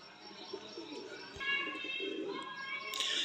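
A breeder pigeon coos softly near the mic, with brief chirpy bird calls mixed in and a low murmur of background voices.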